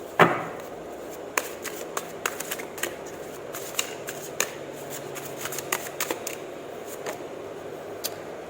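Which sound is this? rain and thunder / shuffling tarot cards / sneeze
shuffling tarot cards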